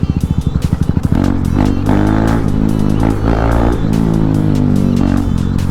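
A 2019 KTM Duke 390 Gen 2 motorcycle being ridden: a close, loud engine that starts with a rapid pulsing idle-like thump, then revs up into a sustained rising and falling drone with clattering mechanical noise.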